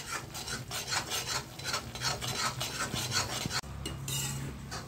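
Flour and edible gum being roasted in a pan for a winter sweet, with a steady rasping, scraping stir of a spoon against the pan bottom, continuous and close, no talk.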